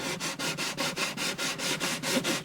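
Sandpaper scrubs back and forth over the wooden bridge of an Alvarez Artist AD65 acoustic guitar, a steady run of about ten close, even strokes with a regular rhythm and no talking.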